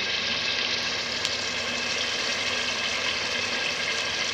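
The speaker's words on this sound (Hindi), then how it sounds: "यहाँ चिकन हमारी फ्राई भुन रही है" Chicken frying in a pan with oil, a loud, dense, continuous sizzle close up, steady throughout with no talk over it.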